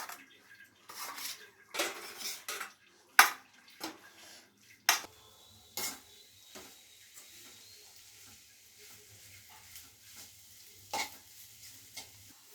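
Maggi noodles being stirred in a pan, with quiet scattered scrapes and clinks of a spoon against metal at an irregular pace, faint sizzling underneath, and no voices.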